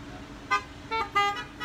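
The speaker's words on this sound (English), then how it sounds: "Two honks, I heard you." Car horns honk at an outdoor drive-in church service: a short toot followed by two more beeps from parked cars, moderately distant over a low ambient hum.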